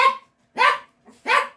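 Indoor dogs give two loud, close barks, with a softer yip between them.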